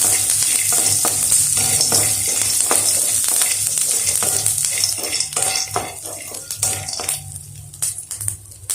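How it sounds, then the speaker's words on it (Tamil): Peanuts and tamarind are stirred and dry-roasted in a pan, with a steady sizzle, scraping of a spoon against the metal, and clinks of utensils running continuously at close range with no talking. "இப்போ எல்லாம் சேர்த்து ஒரு நிமிஷம் நல்லா மிக்ஸ் பண்ணிவிட்டு ஸ்டவ் ஆஃப் பண்ணிடலாம்"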